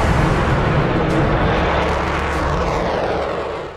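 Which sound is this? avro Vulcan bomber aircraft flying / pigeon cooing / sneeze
avro Vulcan bomber aircraft flying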